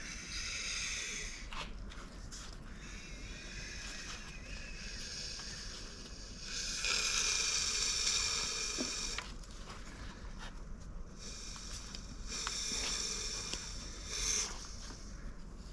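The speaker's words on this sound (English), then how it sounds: "It's cool, you can hear all the intake and exhaust pushing." A Suzuki F6A DOHC turbo engine turned slowly by hand, its intake and exhaust giving soft, repeated breathy whooshes and hisses in an uneven rhythm, close and alone with no talking.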